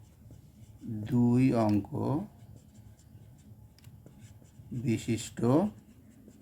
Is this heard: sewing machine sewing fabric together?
no